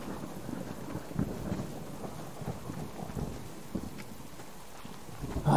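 Distant thunder rumbles low and steady under a soft wash of rain in the video game Subsistence, faint and continuous, with a heavier swell at the very end.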